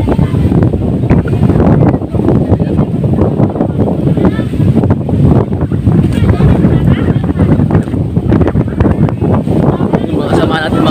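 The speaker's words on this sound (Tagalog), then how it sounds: "Malakas pa rin talaga ang amihan." Strong northeast monsoon wind (amihan) buffets the microphone at the coast, a loud, continuous roar with rumbling gusts and possible surf underneath, while a voice speaks over it.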